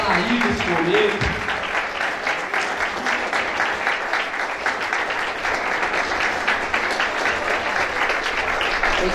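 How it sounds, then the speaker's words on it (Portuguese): A church congregation at an anniversary service claps hard in a thick, continuous roar that lasts throughout, with voices audible beneath it. "Vamos dar um aplauso bem forte para Jesus agora."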